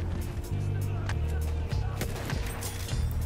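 Gunfire in the first-person shooter Battlefield 1, with shotguns in play: a string of sharp, loud shots and impacts close by, over a constant rumble of battle noise.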